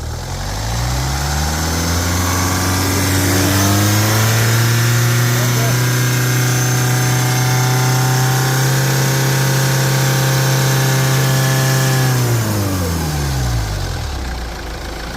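A car engine runs and is revved, climbing to a loud, sustained high-rev drone that holds steady before dropping back down toward idle, heard up close with no talking over it.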